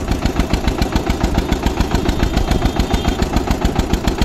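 A John Deere tractor engine runs on a road with a loud, close, steady rapid chugging beat that never changes pace.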